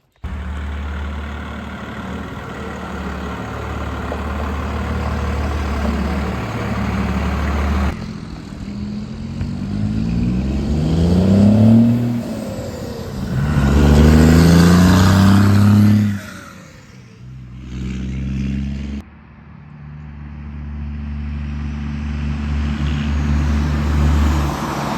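A car engine drones on a drive after repair, with rising and falling revs as it accelerates through gears, loud and steady with wind and road noise throughout.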